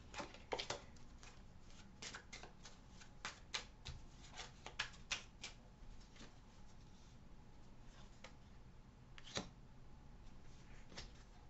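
A deck of playing cards being shuffled by hand, a quiet run of crisp riffling and flicking bursts repeating irregularly close up, with no talking.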